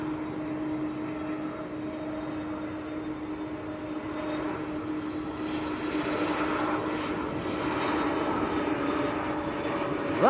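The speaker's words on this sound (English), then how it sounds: "We've got an EasyJet on finals." An EasyJet airliner on final approach at Manchester Airport, its steady engine roar drawn out and gradually swelling over ten seconds, with no voices.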